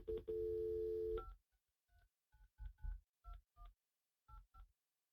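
A telephone keypad dials into a call: a short tone at the start, then a string of separate DTMF key beeps in uneven bursts, clear and close with no talking.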